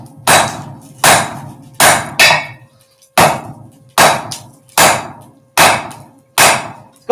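Heavy hammer blows forging a railroad spike with a welded-on washer, nine sharp ringing strikes in an uneven rhythm, loud and close, each decaying briefly before the next.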